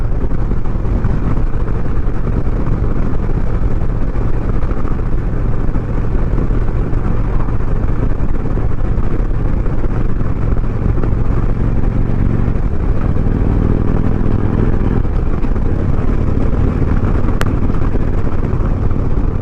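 Motorcycle ridden through curves on a road, its engine a steady loud drone with continuous wind rumble from start to finish, recorded close from a camera mounted on the bike.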